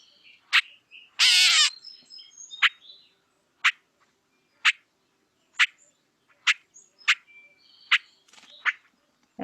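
A catbird gives a series of short, sharp clucks spaced about a second apart, with one longer, harsher cat-like rasp early on, clear against a quiet background.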